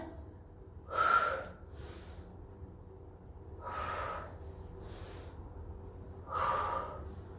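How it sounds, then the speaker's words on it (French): Sharp breaths during a gym workout, three distinct exhalations spaced a few seconds apart, each a short breathy puff with quieter inhaling between, close to the microphone and without talk. "Souffle, inspire."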